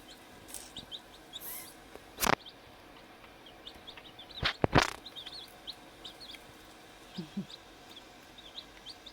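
One-week-old baby chicks chirp with thin, high peeps scattered throughout while pecking at one another, with a few louder sharp knocks and rustles close by.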